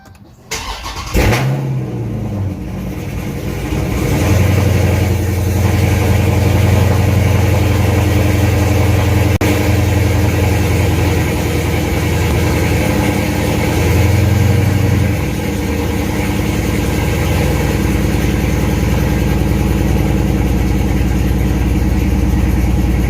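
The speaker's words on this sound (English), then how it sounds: "Here's the cold start from inside the car." Dodge Charger or Challenger with catless mid-pipes cold starts from inside the car, a quick crank catching into a loud, booming high idle that drones steadily with a brief rev swell partway through, no talking.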